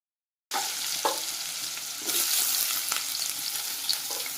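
Cut potato pieces hitting hot oil with mustard seeds and green chillies, starting abruptly after silence into a loud, continuous sizzle with occasional crackles and stirring.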